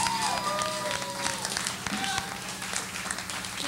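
Audience applause at a coffeehouse open mic night, dense clapping with crowd noise running steadily throughout, mixed with a murmur of voices and some tonal sounds in the background.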